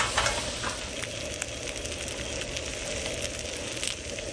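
Pompano fish frying on a hot griddle, a steady broadband sizzle with fine crackles running evenly throughout, close and moderately loud, with no one talking.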